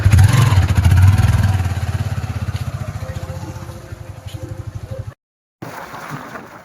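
A motorcycle loaded with tied-on goods rumbles close by, its engine throbbing loud at first and then settling into a steady pulsing idle that fades slightly before a short cut-out and resumption.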